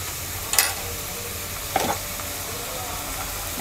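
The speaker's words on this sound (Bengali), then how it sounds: "পেঁয়াজটা ভাজা হয়ে গেছে, এবার দিয়ে দিচ্ছি 1 চা চামচ আদা রসুন বাটা" A spoonful of ginger garlic paste hits onions already frying in oil, a soft continuous sizzle broken by a few sharp stirring clinks and scrapes from a utensil in the pan.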